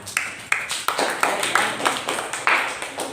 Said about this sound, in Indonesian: Oke, tepuk tangan dulu untuk kita semua